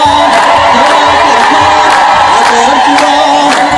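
An Ethiopian Orthodox church congregation in Seattle ululates together, a loud, sustained wall of wavering trills, with crowd cheering mixed in.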